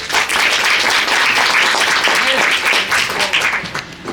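A crowd at a special-needs children's school 8th anniversary celebration claps in a dense, steady burst of applause that lasts the whole stretch, with voices faintly mixed in.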